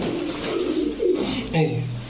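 A pigeon being handled coos in short, low, throaty bursts close by, while people talk over it.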